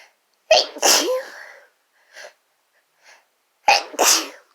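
Two loud, close sneezes brought on by chhinkni snuff, each a short gasp then an explosive burst, separated by about three seconds with faint breaths and small sniffs between them, no talking.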